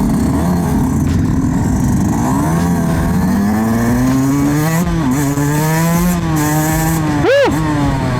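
A 2023 Yamaha YZ125X two-stroke dirt bike, carbureted and run on premix oil, revs up hard. Its buzzing pitch climbs through the gears and ends in a sharp rev spike near the end, loud and close with no talk.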